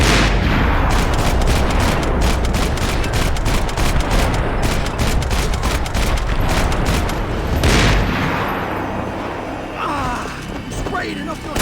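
Sniper gunfire in the video game Max Payne 3 sounds as dense, rapid bursts of loud shots with heavy booms. The volley runs almost unbroken before thinning out toward the end.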